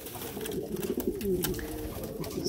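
Pigeons in a breeding loft cooing close by: repeated low, throaty coos in uneven bursts, fairly loud, with faint rustling and movement around them.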